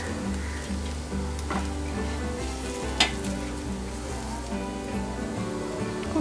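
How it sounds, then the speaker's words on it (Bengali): Soya kababs sizzling steadily in hot oil as they finish frying, a dense continuous crackle close up with a faint clink near the middle and no talk. "কাবাবগুলো ভাজা হয়ে গেছে,"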